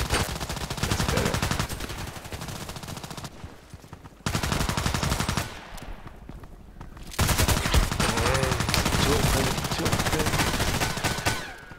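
Loud automatic gunfire from an HK417 in a first-person shooter, in long rapid bursts broken by short pauses. Sharp, dense shots fill the scene, with occasional voices in the background.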